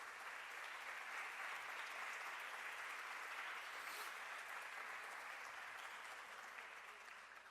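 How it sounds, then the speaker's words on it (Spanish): Applause at an international public health symposium, given in recognition of health workers: a continuous, distant wash of crowd clapping, fairly faint and even, tapering slightly near the end, with no voices over it. "Entonces, un aplauso."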